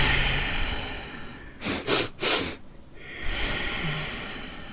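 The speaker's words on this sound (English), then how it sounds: "Inhale 2 short breaths and one long exhale." Two quick sniffing inhales through the nose follow each other closely, then a long, soft exhale trails off into quiet room noise.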